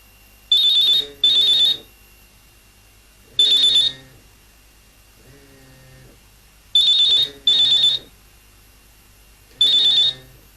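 An old-style telephone bell rings in loud, regular double bursts separated by pauses, with a fainter buzzing tone between the rings.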